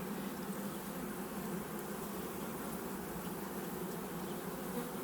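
A honeybee colony hums in a steady, dense buzz, with drones building up before a swarm; the drone is close and unbroken throughout.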